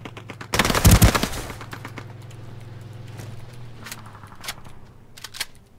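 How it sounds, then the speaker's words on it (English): Rapid bursts of gunfire in the video game Ring of Elysium, one loud close volley up front, then scattered fainter distant shots popping over a low steady hum. "I don't think they're shooting at me. I think they're shooting at each other."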